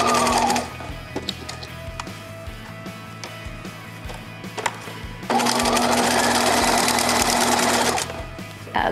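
Domestic sewing machine stitching fringe trim onto fabric for a top and skirt, running in two bursts: a brief opening run, a lighter stretch of pauses and hand-wheel ticks, then a long loud close steady whir.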